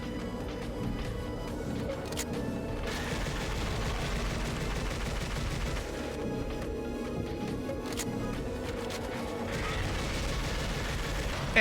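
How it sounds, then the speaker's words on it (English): Sustained assault rifle gunfire during a boss fight in the video game Silent Hill Origins, a dense continuous rattle of rapid shots with heavy rumbling, steady and loud throughout. "just start blasting with the assault rifle"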